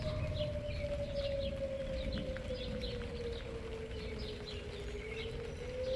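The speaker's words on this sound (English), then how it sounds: "Uh-oh. Sirens." A distant tornado warning siren wails with a slow, gliding pitch across a noisy outdoor background ahead of severe thunderstorms, with faint birdsong scattered above it.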